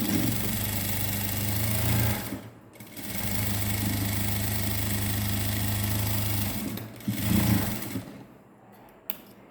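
A sewing machine stitches a net blouse fabric, whirring steadily at close range in two long runs. It pauses briefly between them and ends with a short burst.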